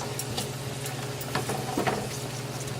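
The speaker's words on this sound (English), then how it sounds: "we have a sizzle here, so that means the pot is getting hot" Onions and garlic sizzle steadily in a hot pot, a constant close frying hiss with a few brief stirring clatters and pops.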